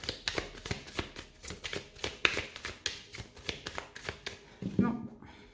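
Tarot cards being shuffled in a steady run of riffling, flapping bursts, close and fairly quiet, with a brief voice near the end.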